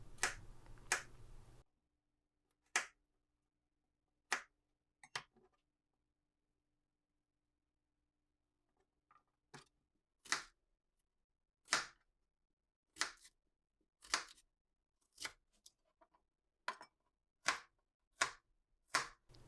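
A knife dices onions on a cutting board in a home kitchen, giving sharp isolated chops at an uneven pace that quicken into a steady run of crisp taps in an otherwise quiet room.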